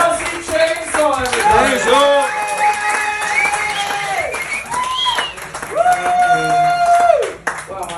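A comedy club audience claps and cheers for a comedian taking the stage, close and lively, with uneven bursts of applause while voices talk and call out over it.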